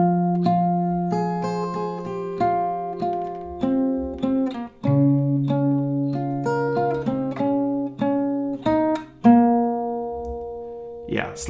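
A melody is picked note by note on an acoustic guitar, with clear single notes and occasional ringing bass strings in a moderate, slightly uneven rhythm, played up close and alone.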